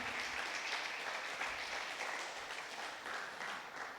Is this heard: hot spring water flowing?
no